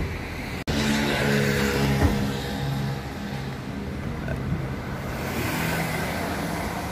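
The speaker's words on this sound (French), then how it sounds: "il y a tellement de circulation." Steady road traffic rolls past near a parked, modified Toyota FJ Cruiser, with a continuous car engine drone and passing vehicles, and a short sharp knock near the start.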